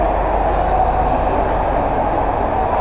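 A train at a railway station in India on the way to Jaipur makes a loud, steady rumble with a thin, constant metallic squeal, close and continuous, with no speech.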